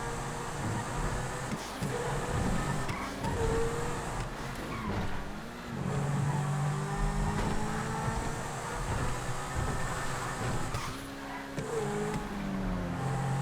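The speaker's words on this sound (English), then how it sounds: "Time has run out, so leaders are going to cross the line in the Zentorno." Zentorno sports cars racing in the GTA video game produce a continuous engine roar, with revving pitch sweeps rising and falling as they accelerate and shift, heard steadily throughout without speech.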